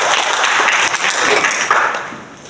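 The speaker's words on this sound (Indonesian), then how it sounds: "berikan tepuk tangan buat Tuhan" Church congregation applauding at a Sunday service, a steady dense wash of clapping from many hands, loud and sustained throughout with a few sharper taps standing out.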